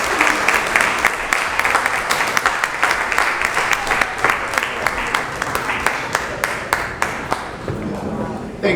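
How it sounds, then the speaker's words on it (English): An audience at a Kenyan festival in Columbus, Ohio applauding: sustained, lively clapping from a sizable crowd with sharp individual claps standing out, fairly close, with some voices underneath. "Let's clap for Michelle once more."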